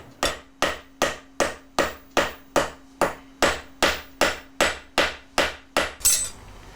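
A hammer strikes metal in a traditional craftsman's workshop, shaping and bending it with about thirteen evenly spaced, ringing blows, close and loud, ending with a brighter final scrape.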